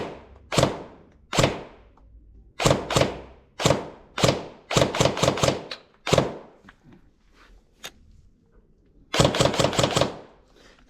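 A Classic Army Nemesis airsoft gun fires in short full-auto bursts of sharp, close cracks with brief pauses between strings, ending on a longer rapid burst.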